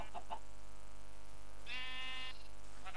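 Minecraft sheep bleats in a video game: a pair of quick short calls near the start, then one longer, sustained wavering bleat in the middle, with a faint further call at the end and no talking.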